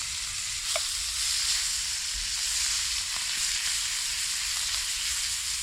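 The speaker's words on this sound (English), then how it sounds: "So we got us some lovely butter melting away, and in goes that steak to brown off a little bit." Steak browning in melted butter in a pan over a campfire, a steady close sizzle and crackle running throughout with occasional louder pops and utensil touches, no talking.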